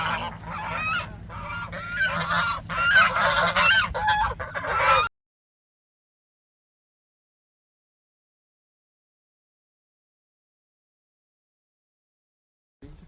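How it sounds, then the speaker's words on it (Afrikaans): A flock of geese honks loudly and continuously on a farm for about five seconds, followed by silence until a brief return at the very end. "Ek hier is 'n klomp ganse."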